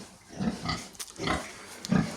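Pigs on a farm grunt and snort in several rough, close bursts spread irregularly through the clip, with a louder grunt near the end and no talk.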